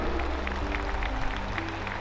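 Audience applause at the closing ceremony of the 37th National Games in Goa, a steady continuous wash of clapping across the whole span, fairly even in level with a low hum underneath.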